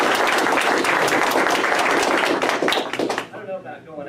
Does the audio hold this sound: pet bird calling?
no